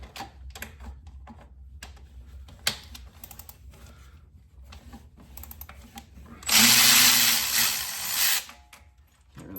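A power tool spins off the top starter bolt of a 1998 Subaru EJ22 engine with a 14 mm socket, a loud, close burst of about two seconds after light clinking of tools.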